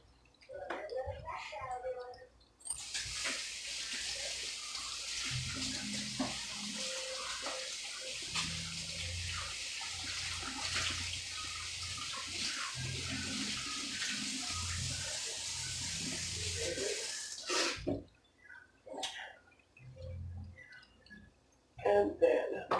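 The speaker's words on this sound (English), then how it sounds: "And then I'm going to wash my hands." Tap water runs steadily into a kitchen sink during hand washing, a continuous splashing rush for most of the stretch before it shuts off, with a voice speaking nearby.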